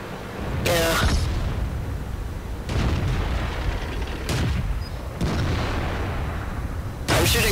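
Tank cannon shots in World of Tanks ring out as several loud broadband booms spaced a couple of seconds apart, the first with a sharp crack, over a steady rumbling game background.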